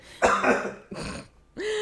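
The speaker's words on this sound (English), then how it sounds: "Cough warning." A close, throaty cough comes in a few rough bursts, with a short pause between them and a voice starting up right after.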